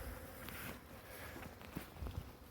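Honey bees fly around harvested combs on a sunny day, a faint, steady buzzing with a few soft bumps and rustles, no voices.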